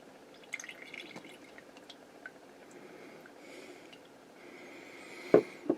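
Tomato pulp liquid with seeds poured through a sieve, with faint scattered drips and trickles building to a louder splash and drip near the end, no talk.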